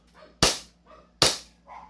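Two loud, sharp CO2-powered pistol shots fired close by about a second apart, each a hard crack with a quick decay, heard during a gun demonstration.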